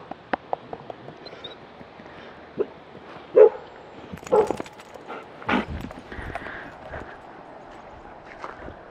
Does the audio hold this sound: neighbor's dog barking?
yes